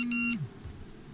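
An incoming phone call in the horror game Pamali gives one short electronic beep that slides down in pitch and cuts off, followed by near silence.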